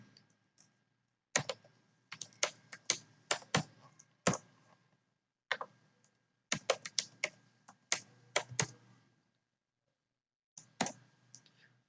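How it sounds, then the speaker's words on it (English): Computer keyboard keys clicking in quick bursts as a password is entered during an online registration, with short pauses between runs of keystrokes, close and fairly quiet, no talking. "typing the password,"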